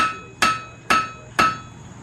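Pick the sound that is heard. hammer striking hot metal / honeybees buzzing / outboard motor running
hammer striking hot metal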